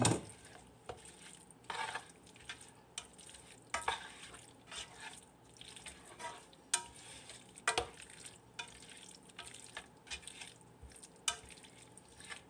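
Pasta goes into a pan and gets stirred, producing soft scraping and clinking strokes with faint sizzling in between, recurring irregularly for about twelve seconds at close range.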